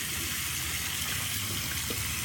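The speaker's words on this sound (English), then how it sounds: "use the tap there, and I scrub" Water runs steadily from a tap as a brush is rinsed under it, a continuous close-up gush with no speech.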